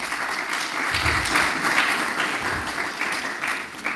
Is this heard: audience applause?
yes